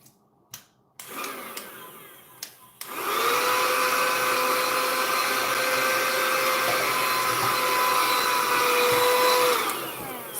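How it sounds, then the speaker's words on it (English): Tiny handheld vacuum cleaning a nail desk: a few clicks and a short burst, then it whirs on with a steady high-pitched motor whine and airflow for several seconds before winding down. "Little vacuum, so cute. Works great for your nail desk."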